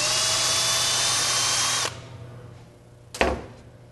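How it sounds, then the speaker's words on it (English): A power drill backs a screw out of a Jett boot, whining loudly and steadily for about two seconds before stopping, followed by quieter handling and a short sharp knock. "I'm using a drill to get this screw out."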